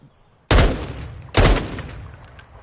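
Two short loud bursts of rapid automatic gunfire from a weapon in Call of Duty MW2, close and sharp, separated by a brief pause and trailing off into quiet.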